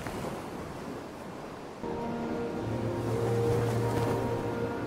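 Surf washing onto a beach, a steady, soft rush of breaking waves with a low sustained tone joining partway through.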